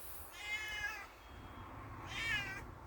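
Two drawn-out meows from a hungry cat, evenly spaced about a second and a half apart, close and clear with no voices.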